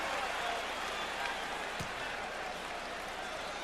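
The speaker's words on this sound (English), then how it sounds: "Crowd urging him to take Oakley" A basketball arena crowd at a 1997 Eastern Conference semifinal Game 5 involving Miami makes a steady, dense roar, urging on a player. The noise stays fairly even throughout, with one brief sharp thump near the middle.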